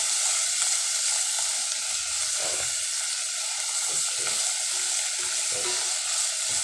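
Steady loud sizzling of meat frying in a hot pan, with occasional scraping and stirring sounds over a constant hiss.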